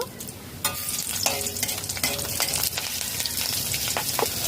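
Whole cumin, whole garam masala and dried and green chillies frying in hot oil, a loud, dense sizzle with crackles and spoon-stirring clinks throughout, and no voices over it.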